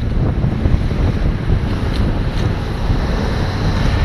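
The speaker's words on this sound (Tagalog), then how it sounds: "Tugnaw na butsogod ang hangin." Strong cold wind roars steadily across the microphone with a dense low rumble at an anchorage, continuous and loud with no voices.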